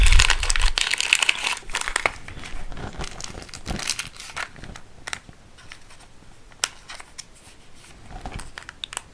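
Plastic Pokémon card sleeves crinkle and crumple up close as they are handled, with a dense burst at the start, then sparser rustles and sharp crackles.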